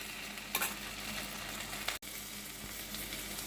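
Cumin paste and chilli paste frying in oil in a pan, a soft, even sizzle at low volume with a couple of brief stirring bumps and a short dropout midway.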